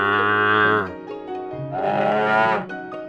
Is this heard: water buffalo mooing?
yes